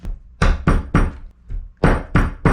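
A chisel is struck repeatedly into plywood to cut a hinge recess during a wooden boat restoration, giving about seven sharp, loud mallet-like knocks in an uneven rhythm, close by, with no talking.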